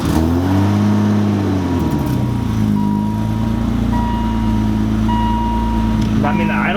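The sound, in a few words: BMW E30 engine idling and revving after ECU mod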